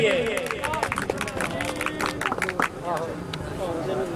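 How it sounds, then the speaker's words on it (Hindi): Crowd clapping for a student prize winner at a boys' degree college annual sports festival, scattered claps running steadily under a male announcer's voice over a loudspeaker. "तालियां जी इस बच्चे के लिए।"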